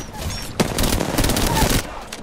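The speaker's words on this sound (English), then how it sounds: "I'm being shot in the back as well" Gunfire in Apex Legends: a dense rapid volley of automatic shots, loud and close, running for over a second amid other battle noise while a voice talks over it.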